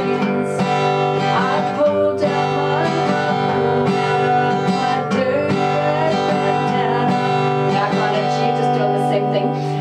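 Acoustic guitar strummed in a steady down-up pattern for a song, full chords ringing continuously and close, with no voices.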